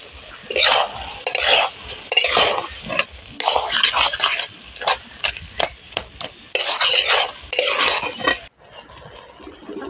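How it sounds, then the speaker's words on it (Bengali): Puishak greens with masoor lentils are stirred in a pan, giving loud, close, repeated scraping and shuffling strokes in uneven bursts that go quiet near the end. "ছড়িয়ে দিয়ে ভালো করে নাড়বো, না হলে দাগ লেগে যাবে"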